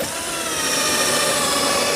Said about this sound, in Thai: ปกติถ้าเราเจาะใช่ไหมครับอย่างเงี้ยนะครับ